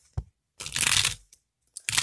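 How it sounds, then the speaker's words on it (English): A small tarot card deck being shuffled by hand, giving short bursts of crisp card riffling and rustling separated by pauses, close and fairly loud with no talking. "and I'm gonna shuffle."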